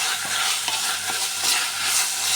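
Ground meat and sliced bitter gourd sizzle steadily in olive oil in a pan, with a spatula scraping and stirring through them in a few soft strokes, close and continuous.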